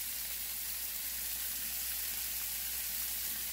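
Minced garlic, onion powder and other ingredients sautéing in a pan, a steady, even sizzle that holds at constant loudness throughout, close and alone with no talking.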